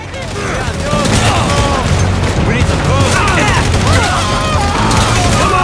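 Explosions and gunfire in the video game GTA 5 during a Trevor Philips Industries mission. Loud, dense bursts of shots and booms follow one another continuously, with crackling debris, and a voice talks over the battle.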